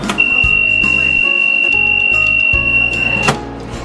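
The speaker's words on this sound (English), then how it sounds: "The alarm goes off as soon as you shut the door." An AED cabinet door alarm at a ski resort sounds one loud, steady high-pitched electronic tone for about three seconds, with knocks and rattles from the cabinet door before it stops.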